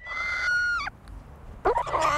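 Recorded calls of a stressed chicken: a sustained, harmonic squawk, a short pause, then a second, rougher burst of clucking, fairly loud and close with no voices.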